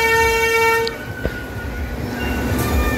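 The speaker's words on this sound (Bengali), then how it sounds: "এটি জোজো ট্রেন" A Jojo amusement-park ride train at Fantasy Kingdom, Ashulia, gives a steady horn toot for nearly a second, then rolls on with a low, continuous rumble and faint clatter.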